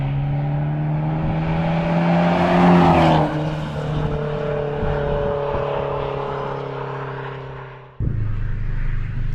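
A car at a hill climb time trial roars past close by at high revs, its engine tone sweeping as it passes, then dropping abruptly as it shifts and pulls away up the hill.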